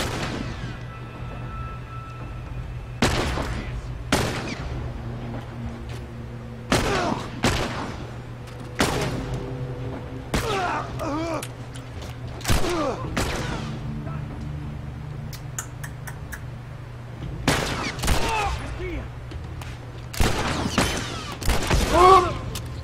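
A thrown bomb in The Last of Us Remastered blows up among enemies, heard as a series of sharp booming blasts and gunfire-like cracks spread across the scene over a constant low game hum, with some talk between.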